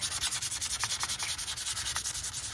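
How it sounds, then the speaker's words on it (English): Sandpaper roughing up the surface of a craft tag, a close, steady back-and-forth scratching in quick even strokes, about a dozen per second, with no voices. "So I found a little sandpaper here."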